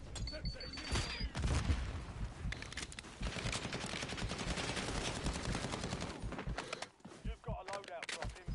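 Dense automatic and single-shot gunfire in the Black Ops 6 video game, a busy firefight with rapid bursts and clatter running almost continuously, briefly dipping before resuming, with game voices heard over it.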